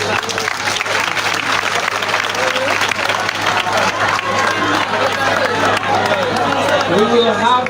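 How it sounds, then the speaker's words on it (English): A crowd clapping for the candidates at a political rally, dense continuous applause mixed with cheering and chatter throughout, loud and close. "Let's clap for all the candidates for Kawempe North."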